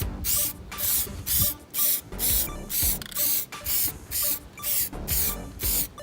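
A spray gun lays a second coat of paint on car bodywork in rhythmic bursts of loud hissing, about a dozen passes with short gaps between them, close by.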